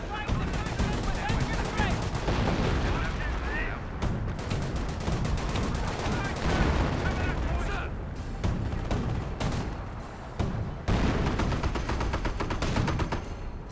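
An artillery barrage and gunfire in the World War II strategy game Company of Heroes: dense, continuous booms, rattling machine-gun bursts and rolling explosions, loud and unbroken throughout.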